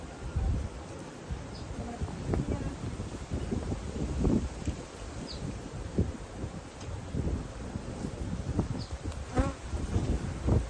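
Honey bees buzzing around an open hive, with a dense continuous drone close by, individual bees passing near the microphone and light wind noise underneath.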